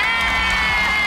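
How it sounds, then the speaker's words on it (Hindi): A TV game-show studio audience cheers and shouts loudly, a dense, continuous roar of crowd noise with no break. "तालियां"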